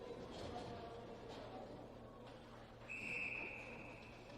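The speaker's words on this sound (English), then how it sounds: "He'll hold that for a whistle." A referee's whistle at a U12 youth ice hockey game sounds as a single short, fairly faint blast over the low, steady rumble of the rink.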